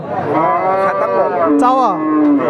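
A cow at a cattle market gives a loud, close, drawn-out moo that bends in pitch, with a second lower call near the end and no talk over it.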